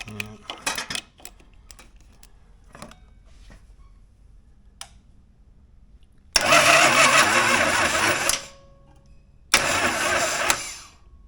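A motorcycle bought at a Mecum auction that won't start cranks over loudly in two bursts, about two seconds and then one and a half seconds long, after a few scattered clicks and knocks in a quiet shop.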